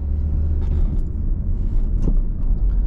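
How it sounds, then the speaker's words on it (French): A car accelerating during a driving lesson, with a steady low engine rumble that rises briefly as it shifts into third gear, close and continuous. "Allez, on accélère et puis on met la 3."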